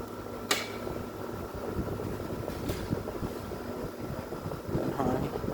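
A Kenmore window air conditioner made by WCI, with a Matsushita compressor, runs on medium fan as a steady broadband whir with a low mechanical hum, close and continuous, with a couple of brief clicks.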